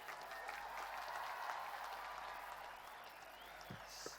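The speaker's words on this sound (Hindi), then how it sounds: "जोरदार तालियां मनप्रीत सिंह के लिए" Applause at an award ceremony in Lucknow honouring the Indian hockey team captain and Tokyo Olympic medal winners: steady, fairly faint clapping from a crowd, sustained throughout and heard from a distance.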